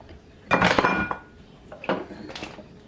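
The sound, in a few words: spoon clinking against dishes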